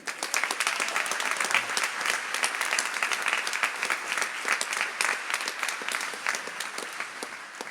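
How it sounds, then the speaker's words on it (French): Sustained applause from an audience at a Radio Maria gathering marking its 25th anniversary, in honour of the Paris-Île-de-France mission lead; dense, steady clapping throughout, moderately distant, with no voices over it. "C'est un gros travail, on peut l'applaudir."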